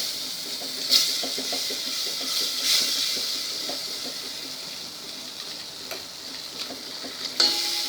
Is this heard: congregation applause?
no